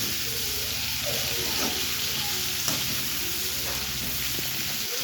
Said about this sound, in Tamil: வெங்காயம் நல்லா பொன்னிறமாக வதங்கட்டும்.